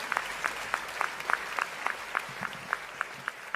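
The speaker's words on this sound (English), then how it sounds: "Please give a round of applause for Dr. Mercedes Martinez." Audience applause at the AMEC 2019 event ceremony, heard as a sparse, evenly spaced series of individual hand claps at moderate distance, faint and steady rather than a dense roar.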